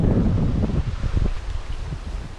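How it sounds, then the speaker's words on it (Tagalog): Blustery wind buffets the microphone with a low, continuous rumble, gusting and easing over a couple of seconds, with some rustling mixed in. "ng lakas na naman ang hangin ah"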